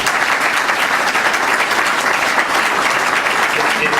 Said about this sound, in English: I would like to hear a round of applause for our speakers.